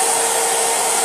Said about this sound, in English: So I'm going to take a hair dryer to this real quick to dry the rest of it.